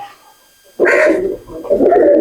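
An old-bloodline Golden Jira type Madrasi pigeon gives a loud, close burst of cooing, two throaty phrases after a quiet start.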